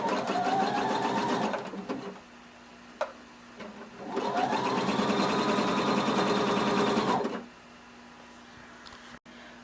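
A sewing machine stitches a narrow folded hem in two steady bursts of fast mechanical whirring, each about two to three seconds long, separated by a quiet pause with a faint hum.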